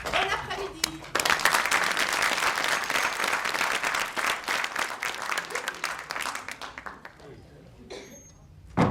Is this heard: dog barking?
no